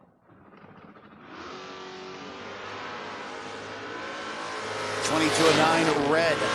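Door car drag racers at a 2025 event rev and launch, engine drone building steadily and swelling louder with warbling tones near the end, while an announcer talks over it.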